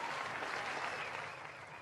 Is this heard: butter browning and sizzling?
no